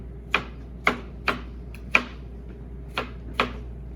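A knife cuts thin apple slices for a German apple cake, giving six crisp, close taps on a cutting board at an uneven, unhurried pace in a quiet kitchen.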